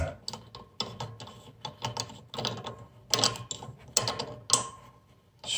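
A Tunstall rebuild tool works on a deep iron body radiator steam trap, making irregular metallic ratcheting clicks and grinding bursts close by, with no talking.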